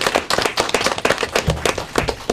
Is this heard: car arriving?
no